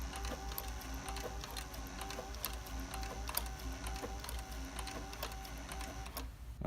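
A Cowboy sewing machine run by hand control stitches in a steady, fast mechanical patter with a low motor hum beneath, holding an even pace for several seconds before easing off near the end.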